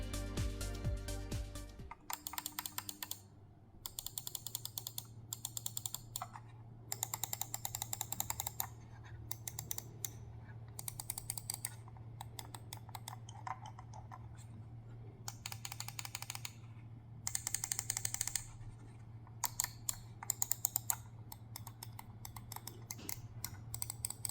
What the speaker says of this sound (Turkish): Ama önce tuş seslerine bir bakalım.